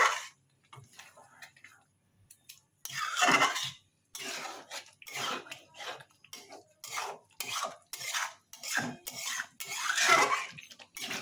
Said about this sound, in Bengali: এরপর এটা দিয়ে একটু ভালো করে নাড়িয়ে দেবেন, কারণ পোস্তটা কড়াইয়ে লেগে যায়।